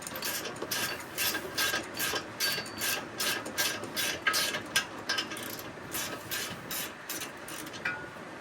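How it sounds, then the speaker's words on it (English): Ratchet wrench clicking as an 18mm socket turns a fastener on a Jaguar F-PACE front knuckle, a steady run of quick, close mechanical clicks in repeated bursts with no talking. "That's an 18mm socket."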